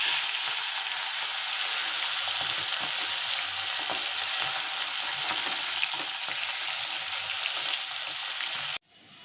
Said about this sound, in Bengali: তেল গরম হয়ে গিয়েছে। এখন আমি মাছগুলো তেলে দিয়ে দিচ্ছি।